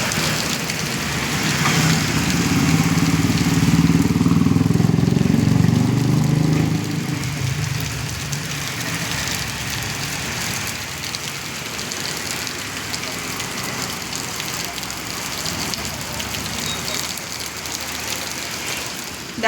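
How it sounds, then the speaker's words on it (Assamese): Heavy rain pours steadily outside, a dense broadband hiss that runs throughout, with a low engine-like rumble prominent in the first several seconds before fading under the downpour. "আপোনালোককো অলপ বৰষুণ দেখাই দিওঁ আমাৰ ইয়াত চাবনে আহক"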